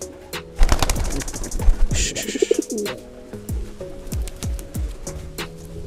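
Pigeons cooing up close in a home loft, repeated deep rolling coos in a steady run, with brief wing flutters and clicks.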